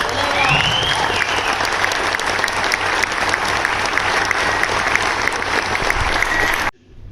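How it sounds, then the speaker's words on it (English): A crowd applauds steadily and loudly at a political campaign event on stage in El Paso County. The dense clapping fills nearly seven seconds, then cuts off abruptly. "So one more round of applause."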